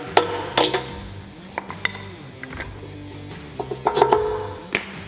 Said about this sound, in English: Once again, grab our hammer and just tap it out.